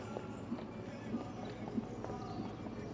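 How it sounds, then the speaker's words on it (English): Soft, rhythmic hoofbeats from a bay Irish Sport Horse performing a dressage test, faint and distant thuds at an even pace beneath low arena ambience. "The Bay Irish Sport Horse by Obers Quality, Westmere Quality."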